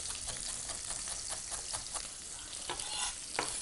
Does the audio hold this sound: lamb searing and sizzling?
yes